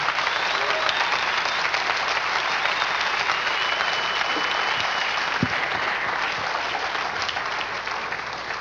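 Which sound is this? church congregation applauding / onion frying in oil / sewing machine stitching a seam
church congregation applauding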